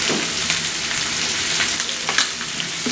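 Drumstick leaf (moringa) curry being stirred in a pan after chili powder is added, giving a steady soft sizzle with occasional scraping stir strokes, close and continuous with no talk.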